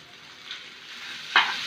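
Noodles stir-fry with browned meat, soy sauce and chopped green chili in a pan, a quiet, continuous close sizzle with one sharp louder burst near the end.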